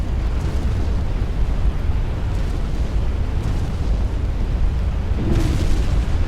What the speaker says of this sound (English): Nah, torpedo hit.